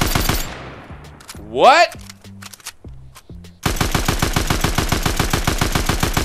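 Rapid automatic gunfire in Fortnite, aimed at floating golden eggs, fires in a steady loud burst through the second half. Earlier comes a shorter scatter of shots and a rising electronic whoosh, with a brief spoken exclamation in between.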